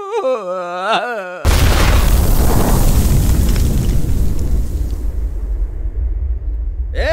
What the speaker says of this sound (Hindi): अरे अचानक से किस देवता ने बम फोड़ दिया?